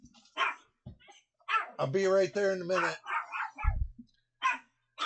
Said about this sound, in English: See, now I got the dog going nuts.